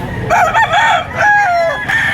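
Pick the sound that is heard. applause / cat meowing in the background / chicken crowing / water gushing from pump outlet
chicken crowing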